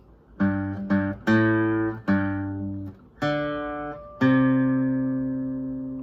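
A plucked acoustic guitar plays a slow melodic phrase from 'The Birthday Song' in single notes starting on G, each ringing out clearly and decaying, the last held longest.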